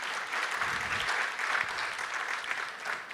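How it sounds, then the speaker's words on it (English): Colleagues at a parole review summit give another round of applause, a sustained, even patter of many hands from a seated audience, continuous from start to finish. "Can we please give them another round of applause?"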